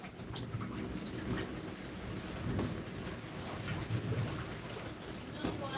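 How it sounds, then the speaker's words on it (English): Steady rain falling on a rainy day in Lorengau, Papua New Guinea, a dense continuous hiss with occasional low rumbles, with a voice heard faintly over it. "fucking rainy day in paradise."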